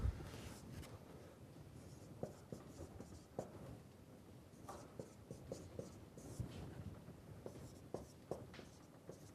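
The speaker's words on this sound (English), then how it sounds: "I'm just writing whatever the result is" Chalk or marker scratches and taps on a lecture-hall board as solid mechanics equations are written, faint and intermittent, with short strokes and small clicks over a quiet room hum.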